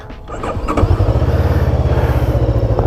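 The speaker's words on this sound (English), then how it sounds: "let's start the bike" A Bristol Veloce 500 motorcycle with a 180-degree parallel-twin engine cranks briefly, then catches and settles into a loud, steady idle with an even, throbbing beat, recorded close with no talking.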